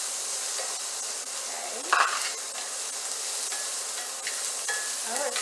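Onions frying in a pan beside pork chops, a steady soft sizzling hiss with a few stirring scrapes, moderately close; one short spoken word occurs.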